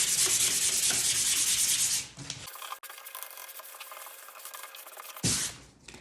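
Harsh, rapid scratching of sandpaper rubbed back and forth over a wooden sign board, broken by a short pause before the sanding resumes.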